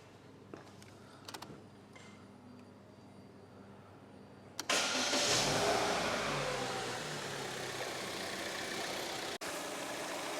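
A car engine cranks and catches partway through, then settles into a steady, fairly loud idle that runs to the end, with faint handling noises before the start.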